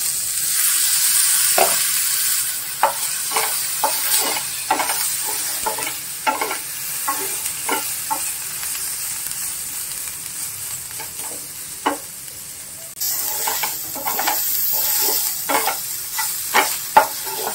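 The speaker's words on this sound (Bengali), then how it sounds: "পেঁয়াজ আলু ভাজা ভাজা হয়ে গেছে" Onions and potatoes fry in a pan with a steady, loud sizzle, broken by repeated scraping stir strokes throughout; no voices.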